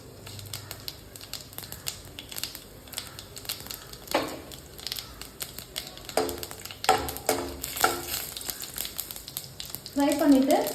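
Cinnamon, cumin and fennel seeds fry in hot oil, giving a soft crackling sizzle in short bursts with occasional stirring clatter; a voice talks over it.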